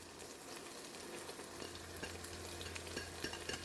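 Garlic chilli chicken frying in a pan as dried fenugreek leaves are stirred through, giving a steady close sizzle with faint scraping strokes and no talking.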